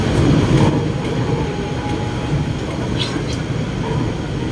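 Bangkok Yellow Line electric monorail train running, a steady continuous rumble of motion with faint higher squeals, heard from inside over the whole stretch.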